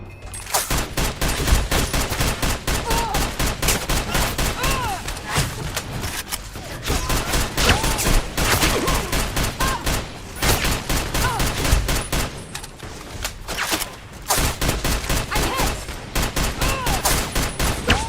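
Gunfire in the modded video game Fallout: New Vegas: rapid volleys of shots and automatic bursts crackle almost nonstop for eighteen seconds, broken only by brief pauses between exchanges.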